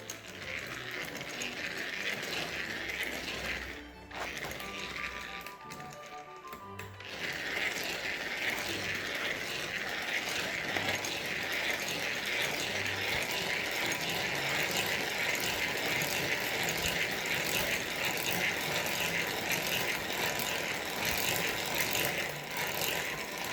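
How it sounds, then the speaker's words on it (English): Tobolo Easy Prep hand-crank mixer beating egg whites in a bowl, a steady close ratcheting, whirring clatter of turning gears that runs continuously, with a brief pause near the start. "Tobolo Easy Prep Quick Hand Mixer to beat the egg whites"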